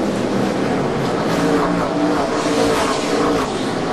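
NASCAR stock cars racing side by side in the Toyota All Star Showdown, a loud, dense, continuous engine roar with a steady wash of noise and no pauses.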